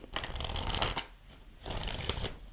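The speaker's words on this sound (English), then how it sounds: "One more shuffle." Two bursts of a deck of cards being shuffled for a tarot-style reading, a riffle followed by a brief pause and another riffling shuffle, crisp and close.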